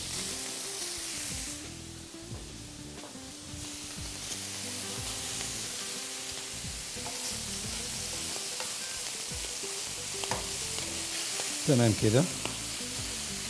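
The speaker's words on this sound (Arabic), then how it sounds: "وبرضو الطماطم اخدها على الجريلا كده" Tomatoes sizzle steadily on a hot oiled grill pan, a loud continuous frying hiss throughout with a brief voice near the end.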